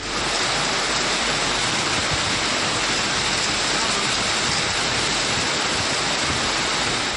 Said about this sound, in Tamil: பலத்த காற்றுடன் கூடிய கனமழை பெய்ததால் குளிர்ச்சியான சூழல் நிலவியது